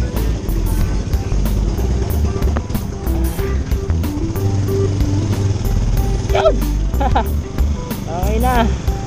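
A Rusi big bike motorcycle engine, freshly serviced with new chain set and oil, runs steadily up close with a low rumbling drone, some brief higher revs and clatter partway through.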